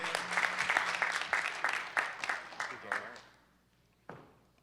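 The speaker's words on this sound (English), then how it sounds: "So if we can give Ben a round of applause." An audience applauds a speaker, Ben Goodwin, at a nonprofit conference: a dense burst of clapping that thins and fades out, followed by a single sharp clap near the end.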